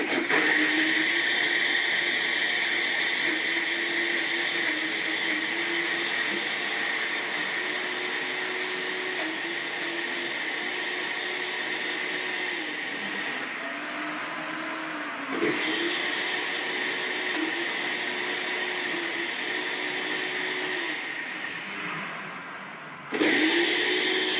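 A kitchen blender runs steadily while mixing a thick food, a loud continuous motor whir that dips and changes pitch briefly a few times and then cuts off near the end.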